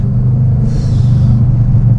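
A 750 hp Corvette engine rumbles loud and close on a downshift, a deep throbbing roar with a brief rasping burst in the middle before settling back.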